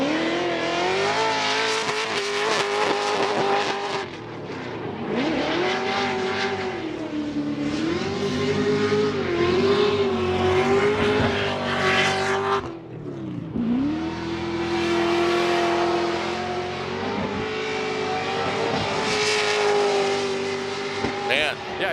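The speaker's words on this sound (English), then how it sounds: "we're going to give a little silence to hear the engine roar" A 2024 Formula Drift Prospec car with a Link ECU roars through a drift run, its engine revving hard and surging up and down in pitch, loud and continuous, with commentators talking over it.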